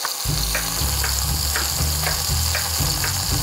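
Hen of the wood mushrooms sizzle in a pan while pressed under a heavy pot, giving a steady, close frying hiss with faint regular ticking clicks.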